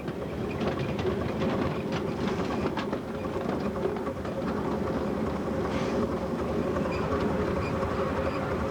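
A 7 1/4 inch Hunslet Josie miniature locomotive running on a park circuit track, a continuous rumbling roll with a steady clickety-clack of wheels over rail joints, heard close from the driver's position.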